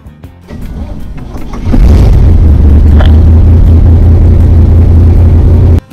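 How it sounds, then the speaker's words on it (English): A car engine starts and settles into a loud, steady low rumble that runs close-up for several seconds before cutting off abruptly, preceded by brief mechanical clicks. "Engine sounds good."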